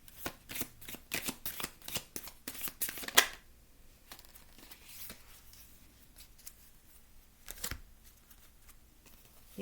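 Tarot cards are shuffled in quick riffling bursts with a crisp, papery rhythm. A last snap is followed by near quiet, then one more brief card sound.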